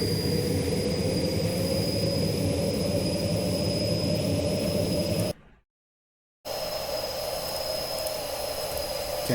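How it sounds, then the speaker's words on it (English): Steady, loud jet engine drone from an aircraft in a Unity game scene, a constant whining roar that cuts out to silence for about a second before resuming. "let's change another scene, that is aircraft."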